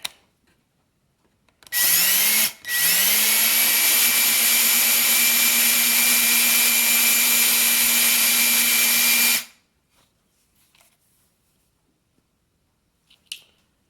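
A power drill bores a hole through a Marlin 795 rifle stock, its loud, steady high-pitched whine running about eight seconds after a brief stop-start, followed by quiet handling and a faint click.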